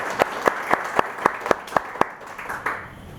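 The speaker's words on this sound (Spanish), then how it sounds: "Un aplauso para el doctor Pérez." Applause from the audience at a criminal law book conference, a sparse, evenly spaced run of about ten sharp claps that trails off after a few seconds.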